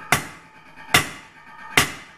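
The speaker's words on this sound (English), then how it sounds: "Back to the traditional hammering, hitting the outside edges so that they" Three evenly spaced, ringing hammer blows strike spring steel on an anvil as a blacksmith shapes a spud, each sharp metallic clang followed by a short decaying ring.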